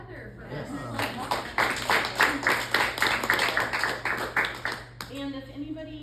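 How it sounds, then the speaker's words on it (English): A workshop audience gives a round of applause, a burst of scattered hand claps lasting several seconds at moderate loudness, with a voice speaking over the end. "maybe a round of applause for Heather for Yes."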